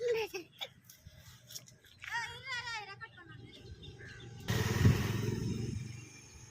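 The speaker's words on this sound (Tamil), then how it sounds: "வண்டி வருது ஓரமா." A motor vehicle approaches along a road during bicycle riding practice, its engine noise swelling loudly near the end. Voices and chirping birds are heard before it.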